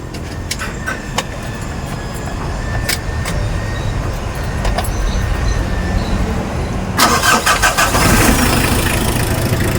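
A customized Mitsubishi L300 van engine cranks and turns over, then settles into a steady running rumble that grows slightly louder and rougher toward the end.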